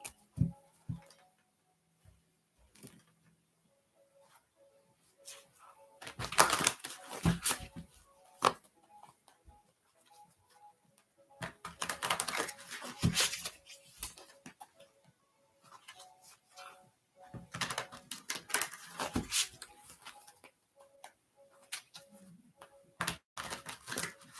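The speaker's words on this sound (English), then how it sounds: "And shuffle one more deck." A deck of tarot cards shuffled by hand during a reading, heard as bursts of rapid riffling and flicking taps separated by pauses, with a faint tonal hum underneath and no talking.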